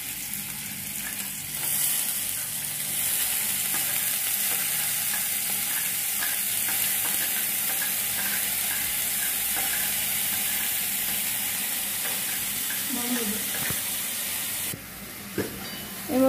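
Chopped onion frying for Maggi noodles in a home kitchen, a steady loud sizzle and hiss that runs on throughout, with occasional stirring clinks and a brief quieter break near the end.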